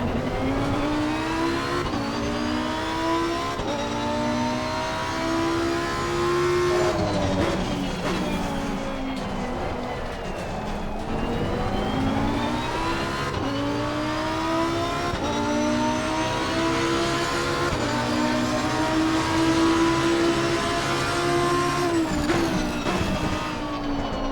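A Lamborghini Huracan race car laps Donington in Assetto Corsa Competizione, its engine revving up and down through repeated gear shifts and braking zones, loud and continuous for the whole stretch without talk.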